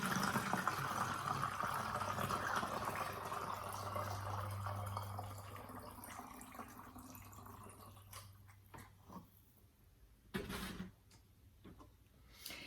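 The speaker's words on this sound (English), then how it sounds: "fill up that sprayer" Homemade liquid for treating powdery mildew is poured through a funnel into a garden sprayer from an old gallon water jug, giving a steady close gurgling stream that slowly fades, then a short knock near the end.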